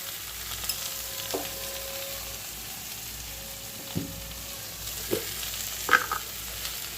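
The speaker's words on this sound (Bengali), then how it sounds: "এবার ভেজে রাখা বেগুনগুলো দিয়ে দিলাম" Fried eggplant goes into a simmering fish curry and gets stirred, giving a low, soft frying crackle under a few scattered spoon knocks and clinks against the pan.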